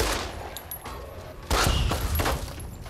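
Gunfire in the Fallout: New Vegas video game, a dense burst of overlapping shots and impacts that swells in the second half, heard over steady game ambience.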